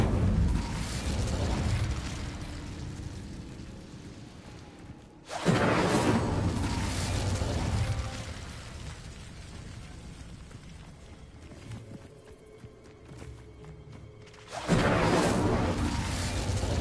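A fire spell cast in the Hogwarts Legacy video game, with loud bursts of flame sound around 5 and 15 seconds separated by a rumbling, crackling sustain, with no talk.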